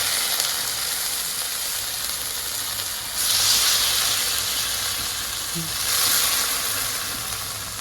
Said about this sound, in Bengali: এখন কড়াইয়ে ডাল দিয়ে দিই